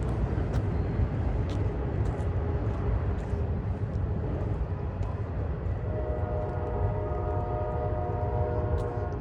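Distant CSX freight train horn near Kenova, West Virginia, a faint sustained blast emerging over steady rumbling rail and ambient noise in the second half.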